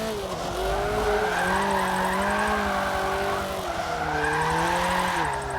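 A front-wheel drive car drifts at Lime Rock in a racing video game, its engine whining and rising in pitch while tires squeal loudly and continuously through the slides.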